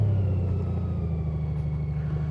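Honda Goldwing motorcycle fitted with a Shark Road exhaust, a steady low rumbling engine note running continuously and fairly loud, close by, with no talking.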